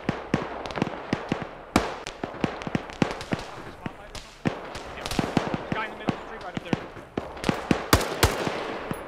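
Rapid gunfire crackles through a video game battle, sharp close and distant shots in irregular bursts and volleys that keep going without a break.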